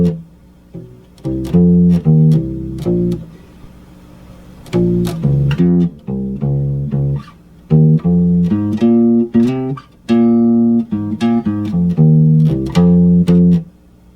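Bass guitar plays the bass line of a song, a solo line of repeated, punchy notes in short phrases separated by brief pauses, close and clear with no voice.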